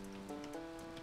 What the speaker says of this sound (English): It's raining in Haydustfield Town.